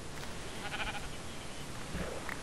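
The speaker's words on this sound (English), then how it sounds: "These are sheep" Sheep bleating in Minecraft, a couple of short nasal bleats standing out over a steady background, with no talking over them.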